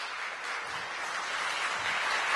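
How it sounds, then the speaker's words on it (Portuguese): A church congregation applauds for the Lord. The clapping is a dense, steady wash that builds slightly toward the end, heard without any talking. "Vamos aplaudir o Senhor."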